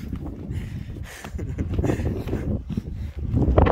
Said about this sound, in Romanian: Bate vântul de numa.